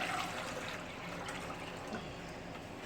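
Four cups of water pour into a pot on a stovetop burner, a close, continuous splashing gush that holds steady for a few seconds without talk.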